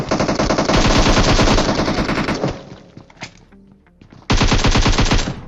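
Automatic gunfire in a shooting video game, loud sustained bursts of rapid shots, a quieter gap with scattered single pops and clicks, then another heavy burst of continuous fire.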